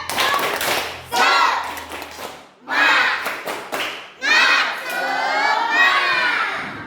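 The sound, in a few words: class doing rhythmic spirit clap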